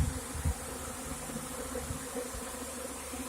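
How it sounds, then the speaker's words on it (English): A honey bee swarm moving into a modified Warre bait hive in May, a dense continuous buzzing hum close by, steady and moderately quiet with no voices. "There's bees everywhere."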